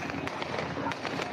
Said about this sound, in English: Cool. Firecrackers.